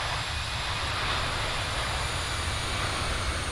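Airbus A321 touching down on a runway in a flight simulator game, a steady, loud engine drone with rumbling rollout noise continuing throughout.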